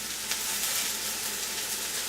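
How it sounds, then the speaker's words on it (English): Mushrooms sizzle in a pan on the stove, a soft, continuous hiss heard alone at moderate distance, with no voices. "You can hear those mushrooms sizzling over there"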